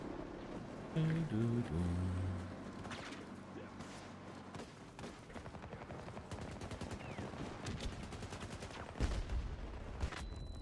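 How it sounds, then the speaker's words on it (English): A grenade explosion in Battlefield 2042 booms nearby amid scattered gunfire and rumbling battle noise, with a heavy low thump near the end. "Whoa, that was a grenade."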